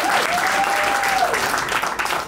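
Wedding guests at an official ceremony in Pointe-Noire, Congo, applaud the ring, a close, full burst of steady clapping lasting a couple of seconds with a brief voice rising through it.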